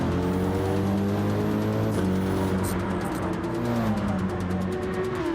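BMW race car accelerating hard at Mount Panorama in a racing video game, a steady engine drone with pitch shifts and faint passing cars, moderately loud and with no talk.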